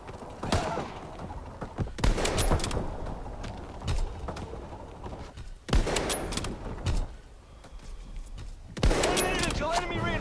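Heavy gunfire in a World War II video game comes as several bursts of sharp shots and impacts, close and loud, broken by short lulls, with voices talking over the action.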